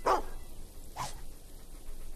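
A dog in the Fable II video game gives two short barks about a second apart, the first louder, over a faint steady game ambience.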